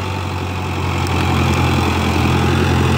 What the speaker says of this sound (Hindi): लो जी चल पाया जी ट्रैक्टर